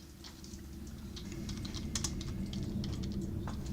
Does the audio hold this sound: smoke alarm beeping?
no